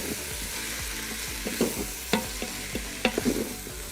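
Garlic being stirred in a hot Instant Pot, a steady sizzle of frying punctuated by several sharp scrapes and clinks of a utensil against the pot, close and clear.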